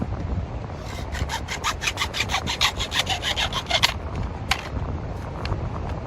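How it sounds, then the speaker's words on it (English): A hand saw cuts a short piece of plastic drain pipe in half, giving a run of quick rhythmic rasping strokes that stop, then one or two more strokes over a low background rumble. "what we do is we cut off about 5 or 6 inch piece, and then simply split this in half"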